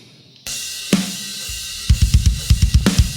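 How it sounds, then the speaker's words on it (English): An isolated drum track from a metal cover mix plays loud and close, with a crash and sparse hits that turn into a fast, punchy run of kick and snare. "Drums."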